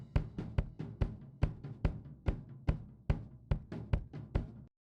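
Kick drum picked up by a pod mic inside the drum, a dozen punchy, close thumps in a steady pattern with short decays, ending in silence.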